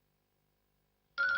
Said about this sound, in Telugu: అరే, అంజలియే ఫోన్ చేసింది.